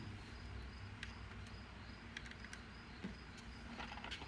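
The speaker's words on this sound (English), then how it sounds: "And we have crickets in the warehouse." Crickets chirp faintly inside a quiet warehouse, giving soft intermittent chirps over a steady low background hum.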